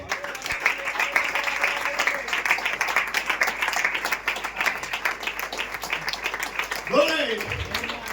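Congregation clapping in praise at a Hindi-language Christian sermon, a dense steady patter of many hands sustained throughout, with a voice rising briefly near the end.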